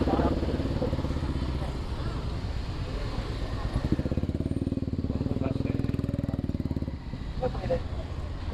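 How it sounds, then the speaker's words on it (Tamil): A motorcycle passes by on a busy road near a bus, its engine droning loud and close with a steady rattling pulse that dips briefly and then resumes. "ஒரு ஓரமாக கிராஸ் ஆகிக்கிறான் பைக்காரன்."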